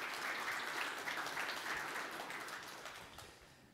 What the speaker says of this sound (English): let's give them a round of applause for helping put together a great program